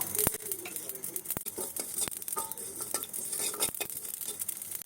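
Whole cumin and black cumin fry in a hot wok, giving a close, steady crackling sizzle broken by sharp scraping clicks of a spatula stirring the seeds.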